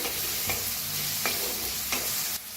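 Finely chopped onion, green chilli and asafoetida frying in a pan, a steady loud sizzle with a few spaced spoon scrapes and knocks, close up and without voices.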